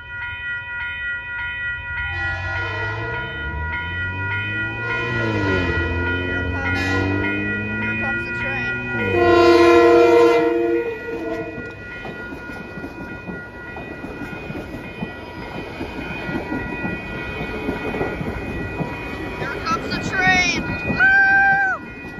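A train passing a railroad crossing at Valhalla Station in New York, crossing bell ringing steadily, then rumbling railcars with clickety-clack rolling by, while people talk nearby and a horn sounds.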